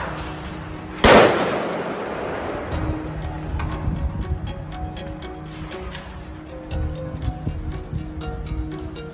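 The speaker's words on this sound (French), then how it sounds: "Ça tire avec des vraies balles." Gunfire with live rounds during riots in the streets of Dakar: one loud sharp report early on, then a series of fainter distant cracks and pops over a noisy outdoor background.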